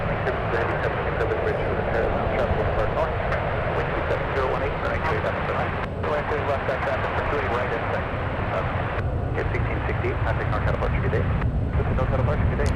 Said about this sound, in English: Turn and burn for the 737.